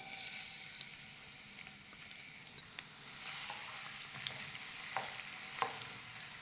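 Chopped onion frying in oil with cumin seeds for a tarka, a steady close sizzle with occasional sharp pops and stirring clicks, no talking.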